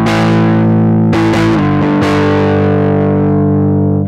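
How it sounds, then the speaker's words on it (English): Epiphone Jack Casady semi-hollow bass driven through a bass amp's overdrive, loud and gritty with sustained distorted notes and a few re-picked attacks, ringing out alone until it fades at the end. "Yes, this bass amp has overdrive, and I want to see what it sounds like with overdrive."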